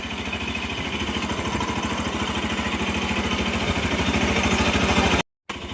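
The fuel-injected Bajaj Rouser NS200 motorcycle runs steadily after a fuel pump replacement, its engine idling close by with an even, rapid pulsing beat and a brief cut near the end.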